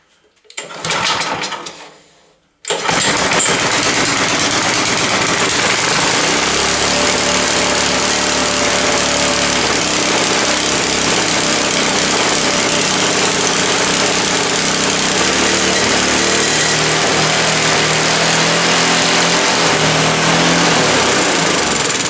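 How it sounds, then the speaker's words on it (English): A 1972 Hahn-Eclipse Snow Giant snow blower with a Tecumseh H60 engine cranks, catches and runs on choke, settling into a loud, steady, slightly fast engine drone that continues without a break after the brief start attempt. "obviously I have to adjust the governor. It's run a little too fast."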